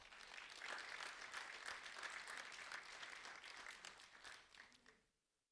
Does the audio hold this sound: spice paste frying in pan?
no